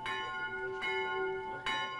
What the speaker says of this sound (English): They've recently installed a memorial bell.